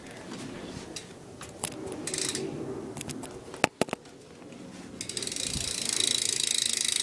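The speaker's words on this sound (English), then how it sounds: "And this is the sound of my hub." A bicycle rear hub freewheeling: fast, close ratcheting clicks from the pawls running in bursts, with a sharp knock midway and the clicking growing louder and denser toward the end, no talking.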